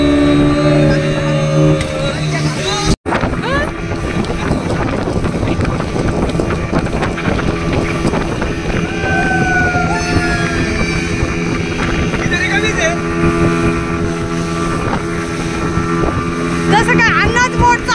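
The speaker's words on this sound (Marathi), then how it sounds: "कसं काय अन्नाच बोट चालवतोय" A motorboat rides off Nagaon beach with a loud, continuous engine drone and heavy wind buffeting the microphone. People talk and call out over it throughout.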